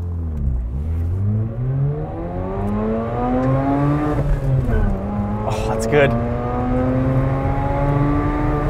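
A 2011 Mazda RX-8 rotary engine revs hard through a rolling launch, pitch climbing smoothly through the gears with brief dips at each shift, loud and close from inside the car, with people talking over it.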